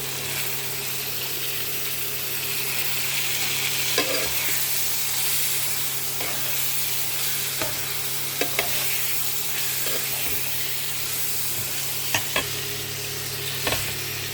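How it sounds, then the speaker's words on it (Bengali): Snakehead fish fries in a pan, a loud continuous sizzle and hiss with a steady hum underneath and occasional faint taps of a utensil, and no talking. "এখন আমি এখানে মাছটা দিয়ে দিই"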